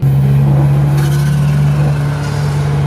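A 2-litre Mercedes A-Class turbocharger whooshes and hisses as the throttle is released, over a loud, steady engine drone, with no talk.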